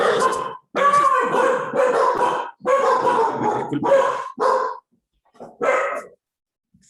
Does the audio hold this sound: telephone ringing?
no